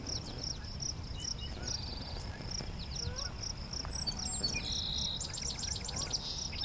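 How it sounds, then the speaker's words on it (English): A song sparrow sings in a meadow at the south end of Beverly Swamp, thin high phrases repeating at a moderate distance over a steady bed of cricket trill and low background hum. "So we get song sparrow right away."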